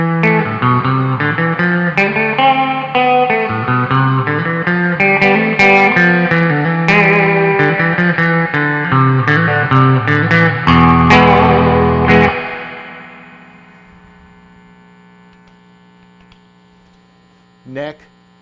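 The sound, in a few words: electric guitar, Mosrite style pickup, neck and bridge, full output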